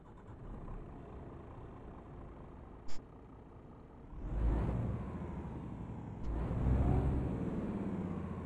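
A Scania truck engine in Euro Truck Simulator 2 idles with a low steady rumble, then revs up twice in rising surges, with a brief high beep partway through and no talking.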